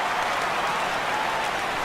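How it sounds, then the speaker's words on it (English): Crowd in the MLB The Show 16 baseball video game reacting to a fly ball, a dense steady roar of cheering and clapping-like noise, loud and continuous with no one speaking. "This crowd oohs and ahs every time this guy hits a fly ball."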